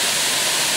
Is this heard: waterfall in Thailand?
yes